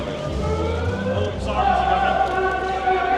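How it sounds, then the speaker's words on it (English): Wailing megaphone siren tones rise and hold over steady crowd and street noise, fairly loud and continuous throughout. "that's megaphone sirens, yeah, mega"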